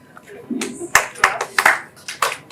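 Members of an audience at a startup and company compliance talk perform a patterned group clap, sharp claps landing in an uneven rhythm with some voices heard between them.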